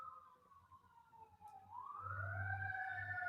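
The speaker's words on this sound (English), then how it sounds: "Sirens." Emergency vehicle sirens wail with a rising and falling tone, faint at first and then louder and steadier, with low rumble underneath and no voices.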